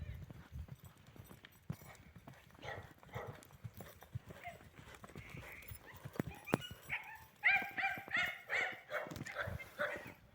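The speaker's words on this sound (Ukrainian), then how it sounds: "Отакі такі коні на продажу, на обкатку." Draft horses walking, hooves clopping at a walk on a hard surface in a Ukrainian village, with dogs barking nearby and occasional voices in the background.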